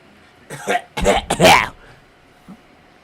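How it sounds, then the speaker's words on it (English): A person coughs several times in a quick, harsh cluster, close up, followed by a faint throat sound. "Coughing sounds."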